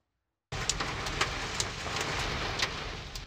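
Heavy storm rain with strong wind in Dnipropetrovsk region, Ukraine: a dense, steady roar of downpour begins abruptly, with scattered louder splashes and gusts throughout, no voices.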